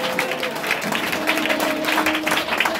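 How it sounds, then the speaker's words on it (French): A church congregation breaks into sustained applause and acclaim, dense clapping mixed with crowd voices and a soft sustained tone beneath, steady and loud throughout. "Est-ce que tu peux encore l'acclamer puissamment?"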